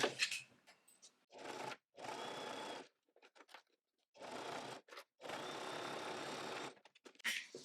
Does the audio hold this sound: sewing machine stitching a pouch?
yes